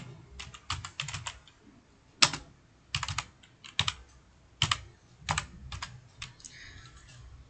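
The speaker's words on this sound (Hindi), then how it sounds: "मैंने यहाँ तक टाइप कर लिया।" Typing on a computer keyboard while working in MS Word, clear clustered keystrokes in uneven bursts with short pauses between, close and crisp in a quiet room.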